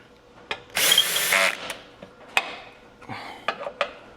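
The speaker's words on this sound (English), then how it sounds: "use a drill if you want, just make sure that the clutch is turned down." A power drill driving screws under a 2026 Honda Civic Si during an oil change whirs in one sustained burst, followed by clanks and short knocks of tools and hardware, close by with no talking.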